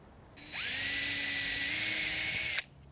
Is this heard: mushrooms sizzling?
no